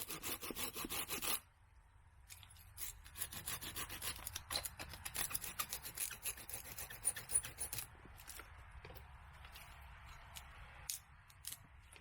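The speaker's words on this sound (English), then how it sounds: "I love this saw." Hand saw cutting through tree branches outdoors, a steady run of close, loud rasping strokes with short pauses between bursts of sawing.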